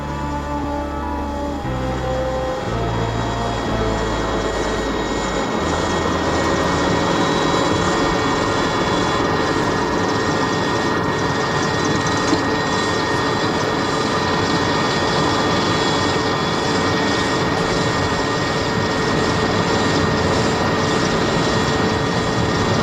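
Military helicopters arriving during the South African campaign into Angola in 1982, with a loud, steady rotor and turbine roar that builds over the first seconds and then holds close and constant throughout.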